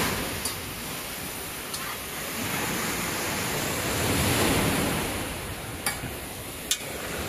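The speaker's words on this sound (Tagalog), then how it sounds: "Unya ingani ang dagat diri oh." Sea waves wash steadily onto a beach at Malabuyoc, Cebu, a continuous broad surf roar with gentle swells in loudness and a few faint clicks on top.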